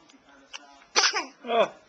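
A single sneeze, loud and close, preceded by a quick intake of breath, with a short vocal burst just after.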